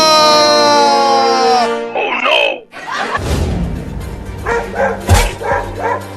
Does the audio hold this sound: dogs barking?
yes